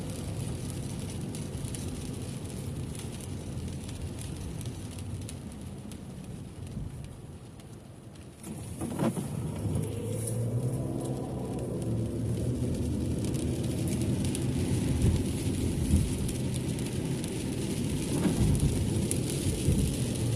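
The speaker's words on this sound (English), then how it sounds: "Rainy, cold day." Rain patters on a car driving home from Costco on a cold day, a continuous hiss of drops on the body with road rumble underneath, steady and close with no talking.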